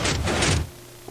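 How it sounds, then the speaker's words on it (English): A hidden bookshelf sliding door in Minecraft grinds open with a loud, broad scraping rush for about half a second and then cuts off, followed by quiet and a faint click. "it's a sliding door of sorts"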